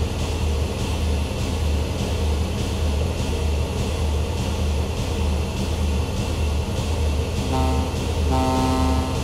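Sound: ship horn in Ship Handling Simulator video game

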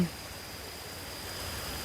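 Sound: water flowing over a small stream weir

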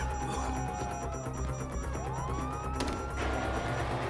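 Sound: police sirens in Grand Theft Auto video game

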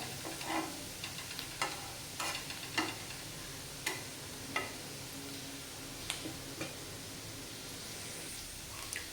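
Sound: onions being sautéed in a pan

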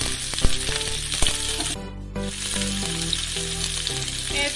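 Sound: frying cut eggplant over medium flame

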